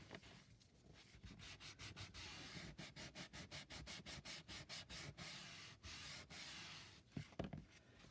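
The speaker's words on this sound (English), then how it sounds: "I'm going to use a little bit of a sanding block here to see if I can smooth out the transition." A handheld sanding block rubs over a taped seam to smooth the transition during a guitar build, making steady rhythmic back-and-forth scraping strokes, close and fairly loud, with no talking.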